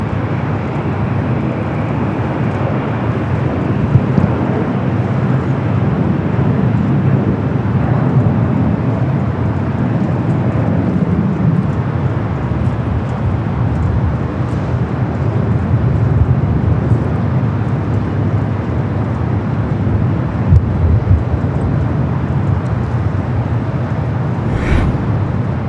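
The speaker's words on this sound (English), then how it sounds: "Lufthansa Flight 4586, the Queen coming in from Frankfurt" Lufthansa Boeing 747 jumbo jet arriving from Frankfurt at Los Angeles, its low engine roar steady and fairly loud throughout, rumbling broadly with no talk over it.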